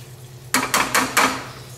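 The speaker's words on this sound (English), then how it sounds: "And gently stir this up." A spoon scrapes and clinks in a pot of sweet and sour Sicilian caponata, four quick stirring strokes close by over a low steady hum.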